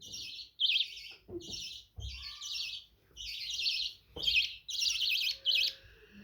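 A baby bird being hand-fed chirps in quick bursts of high, twittering notes, close by, repeating with short pauses between calls.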